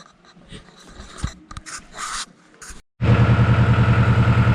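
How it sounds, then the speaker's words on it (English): A Kubota L345DT tractor engine starts running after a quiet gap, settling into a loud, steady, close rhythmic chug that lasts to the end, preceded by scattered handling noises. "I'm gonna have to talk loud because I got the tractor running right now"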